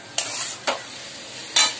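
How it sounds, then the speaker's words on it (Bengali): Red amaranth greens being stir-fried in a pan: three short scraping stirs of the spatula, close and fairly loud, spaced irregularly over a soft steady sizzle, with no voices. "ভালো করে ভেজে নিচ্ছি।"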